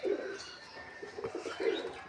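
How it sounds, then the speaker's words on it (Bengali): Diamond doves cooing close by in soft, low repeated calls, a few coos spaced across the moment, no talking. "আর এই যে আমার ডায়মন্ড ঘুঘু পাখিগুলা"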